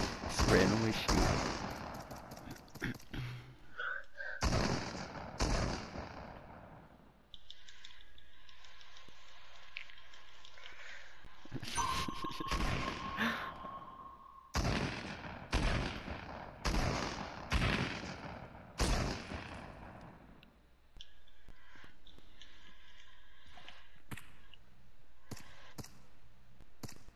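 Bursts of Fortnite video game gunfire from a Creative Prop Hunt match, played in loud clustered volleys with rapid repeated shots and short pauses between them, separated by quieter stretches of game ambience.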